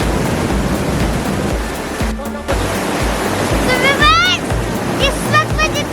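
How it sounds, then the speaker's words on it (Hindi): Cold, high-pressure water rushes loudly along the Ratti Gali lake track, a constant, close, roaring torrent with a voice briefly heard beneath it. "पानी की आवाज बहुत ही ज्यादा है और बहुत ही प्रेशर है पानी का।"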